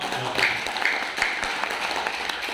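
Applause from a gathering at a halal bihalal religious meeting, a moderate, continuous patter of many people clapping with a few louder claps and faint voices mixed in.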